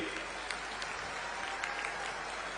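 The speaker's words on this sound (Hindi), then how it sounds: "एक बार जोरदार तालियों से स्वागत करिए" Large crowd at a political rally in Bilaspur applauding to welcome a speaker, a continuous wash of clapping and crowd noise filling the whole stretch at an even level.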